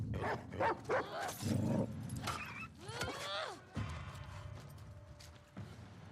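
A dog barks in The Last of Us, its calls mixed with clattering game sounds, creaks and mechanical noises, while a person talks over the action.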